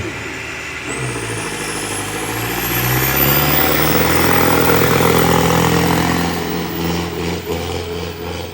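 A tractor engine roars steadily at a village trolley-pulling contest, loud and close with a rising, sustained drone and no talking.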